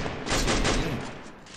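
A rapid burst of gunfire in a shooting video game, a dense close rattle of shots lasting about a second before fading out.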